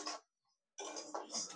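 Rice is dry-roasted in a dry wok over a low gas flame and stirred in small batches, giving short gritty scraping and rattling bursts separated by a brief silent pause.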